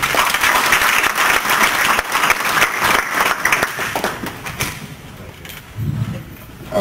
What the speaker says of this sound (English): I want to give you all a round of applause for coming up to Tulsa and to Oklahoma City and getting us started.